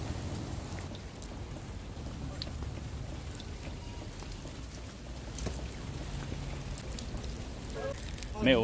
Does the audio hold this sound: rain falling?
yes